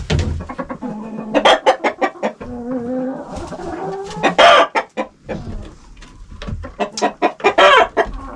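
Chickens cluck in quick bursts with a rooster's longer calls mixed in, close and loud, with no talking.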